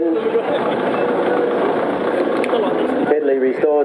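A restored Fordson N vintage tractor engine runs at a steady, even pace, giving a continuous close-up mechanical drone that holds throughout, with a brief change in tone near the end.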